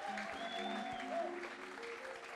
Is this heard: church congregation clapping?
yes